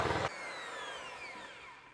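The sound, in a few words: electric hand whisk mixing orange cake batter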